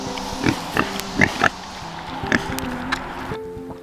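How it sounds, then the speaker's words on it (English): Pigs grunting in a farmyard on a hot day while being watered down, with several short, loud grunts and snorts spaced irregularly over steady background noise. "Hey, pigs."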